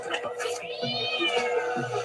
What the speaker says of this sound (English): sounds just like George, my cat